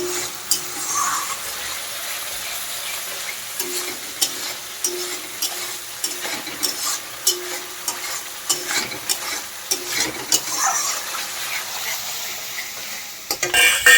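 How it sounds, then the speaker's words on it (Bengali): Spice masala for a fish curry sizzles in a pan while being stirred, with repeated spatula scrapes and knocks over a continuous frying hiss, close and fairly loud. "একদিকে দেখো মশলা কষিয়ে নিচ্ছি"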